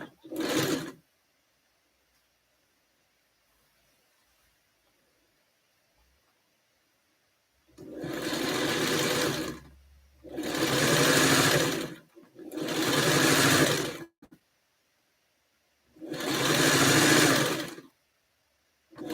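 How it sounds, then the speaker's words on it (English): A small sewing machine stitches fabric in fast, whirring bursts, one short run followed by four longer runs of a few seconds each, separated by quiet pauses, close and clear. "this little sewing machine goes fast too"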